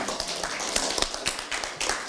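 Applause at a Democratic Party joint leadership meeting during a bouquet presentation, a small group clapping steadily and unevenly with distinct sharp claps standing out, fairly close and continuous throughout.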